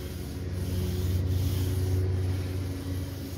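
A paint roller works paint onto an RV camper wall with a continuous, close, soft rubbing and swishing, steady in level with faint rhythmic strokes.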